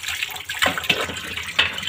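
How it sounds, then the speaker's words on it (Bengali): Running water splashes over utensils being rinsed after scrubbing, with uneven gushes and a few sharper splashes close by, and no voices. "তো এগুলোকে এবার ধুয়ে নিই,"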